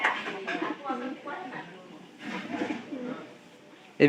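Domestic pigeons in a loft coo in soft, repeated low calls, with a person talking nearby throughout and a brief louder burst at the end.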